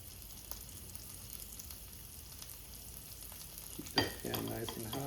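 Beef tacos frying in a pan of hot oil, a sudden loud sizzle that starts partway through and keeps crackling steadily close by after a quiet stretch.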